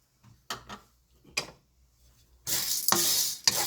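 Chana dal dry-roasting in a pan for idli podi: a few sharp scrapes and clicks, then a dense, loud rattling rush of lentils moving against the metal, close up with no talk.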